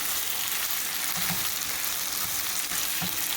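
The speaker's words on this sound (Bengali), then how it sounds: "এই সময় দিলে মাংসের সাথে সাথে এটা ভাজা হবে" Chicken pieces with red chillies sizzle steadily in a hot pan for a methi chicken curry, a dense continuous hiss close up with faint scraping stirs and no voices.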